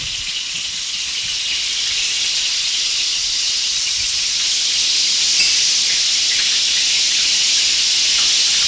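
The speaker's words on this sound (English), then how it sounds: "The oil is sizzling right now, and Antoinette is putting the beef in to be fried" Beef going into hot frying oil at Naga Hill in Ghana, a steady loud sizzle and hiss that holds unbroken and grows slightly stronger, with no talk over it.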